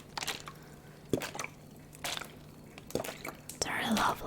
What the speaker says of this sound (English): I usually am not a fan of water sounds, but this one bottle is giving me extra tingles.